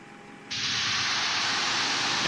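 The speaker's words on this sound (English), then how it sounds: "So you can hear them on the outside, like spraying the aircraft down." De-icing fluid spraying onto a Boeing 737-800 in the Prepar3D v5 flight simulator, a loud steady broadband hiss that bursts in after a quieter cabin hum and holds constant to the end, heard from outside the aircraft.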